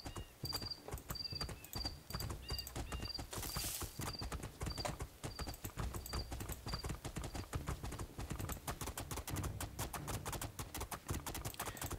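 A horse gallops in the video game Two Worlds 2, with quick, even clip-clop hoofbeats running steadily throughout, joined early on by a faint high ringing tone, with no talking.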